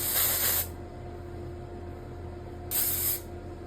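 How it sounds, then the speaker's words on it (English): Two short hissing bursts of hair spray aimed at sectioned silky hair, the first running about half a second and the second coming after a quiet pause, both close and fairly loud. "I just section it, spray it up"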